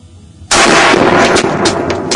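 A rifle fires a single loud, sharp gunshot at close range, followed by a dense, rough burst of crackling noise that lasts about a second and a half.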